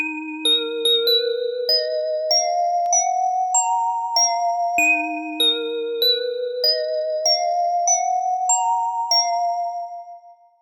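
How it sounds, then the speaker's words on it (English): A bright bell melody in an FL Studio beat, clean chiming notes stepping up in a repeating pattern, played solo and steady before fading out at the end. "Then I added this bell sound here."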